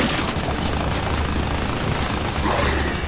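Sustained automatic gunfire and booming blasts from a heavy gun in the Gears 5 video game, loud and continuous across a dense battle mix with no talk.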